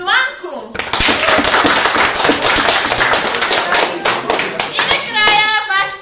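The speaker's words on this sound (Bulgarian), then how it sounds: "Вашите аплодисменти за Миланко" Audience applause for Milanko at a class awards event, a dense burst of clapping that begins after a brief opening voice and runs steadily to the end, with a voice calling over it near the close.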